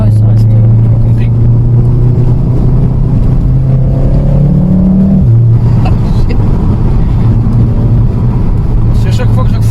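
A Volkswagen Golf engine holds a loud, steady drone, then climbs in pitch as it accelerates and revs before easing back to a lower hum, heard close up with people talking.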